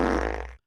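A single loud, close fart sounds for about half a second with a buzzing, rippling flutter before cutting off abruptly into silence.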